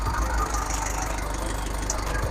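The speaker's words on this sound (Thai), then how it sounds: "เครื่องยนต์ WL เสียงเครื่องประมาณนี้นะครับ" A Mazda Fighter pickup's WL 12-valve diesel engine idles close by with a steady, loud, low rumble and a faint rattling knock, unchanging throughout.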